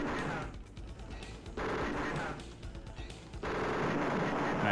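Spaceship weapons in a Star Control battle fire in rapid, crackling bursts that swell and drop back several times, loud and continuous with no talking.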